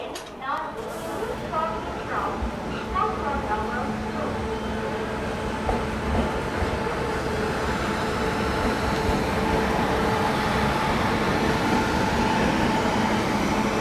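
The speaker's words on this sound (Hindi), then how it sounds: "मदुरई चेन्नई तेजस एक्सप्रेस," Madurai–Chennai Tejas Express passing near Chengalpattu Junction, a steady loud rumble of coaches on rails building over the whole stretch, with squealing tones early on.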